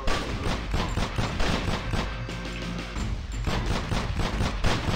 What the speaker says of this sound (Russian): По-любому по мне стреляют.